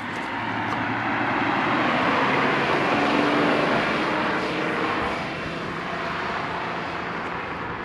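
A loud, steady Acura NSX engine roar holds at full volume for several seconds, easing slightly toward the end, with broadband noise and no voices.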